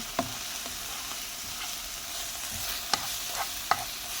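Garlic fries in a pan with a steady soft sizzle, broken by a few sharp clicks and scrapes of stirring. The sound is close and there is no voice.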